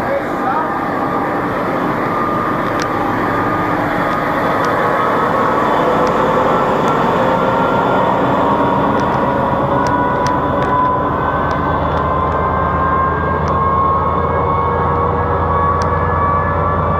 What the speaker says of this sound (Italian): Treno di Fondazione FS 96383